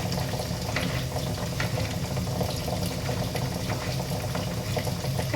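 Brinjal pieces cook in a pan for a brinjal curry, giving a steady, soft bubbling and sizzling hiss that stays even throughout with no talking.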